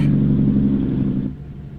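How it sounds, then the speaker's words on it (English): A deep, guttural engine-brake rumble from a Scot A2HD truck in American Truck Simulator, loud and steady with low throbbing tones, easing off and fading slightly near the end. "Nice guttural sounding engine brake there as well."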